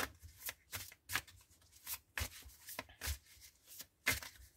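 Tarot cards being shuffled by hand before a reading, a run of brisk papery riffles and rubs in uneven bursts, close and fairly quiet, with no talking.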